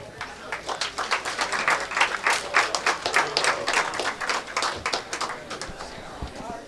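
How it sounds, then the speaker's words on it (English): An audience claps at an awards ceremony for a billiards amateur championship, producing steady rhythmic clapping from a modest crowd that rises and falls over several seconds. "How about one more round of applause for Christine Honeman"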